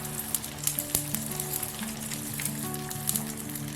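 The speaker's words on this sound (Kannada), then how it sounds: "ಈಗ ನಾನು ಕಲಸಿಟ್ಕೊಂಡಿರೋ ಮೊಟ್ಟೆನ ನಾನು ಹಾಕ್ತಾಯಿದ್ದೀನಿ" Beaten egg poured into an oiled pan sizzles and crackles steadily throughout, with a few sharp spatter pops near the start and no voices.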